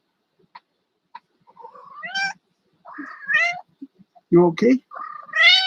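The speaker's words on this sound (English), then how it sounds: "I have a cat." A house cat gives several drawn-out, rising meows in a quiet room, and a person speaks briefly between the calls.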